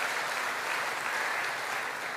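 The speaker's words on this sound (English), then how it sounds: "Round of applause for Justin." An awards night crowd gives a round of applause, a dense, even wash of clapping from many hands that holds steady and fairly loud throughout.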